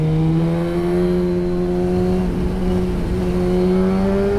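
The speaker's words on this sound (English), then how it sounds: "I love the sound of that full system, that full block system." A Suzuki GSX-R motorcycle fitted with a full block exhaust system revs steadily and loudly up close, its engine note holding a strong even drone that rises slightly in pitch toward the end.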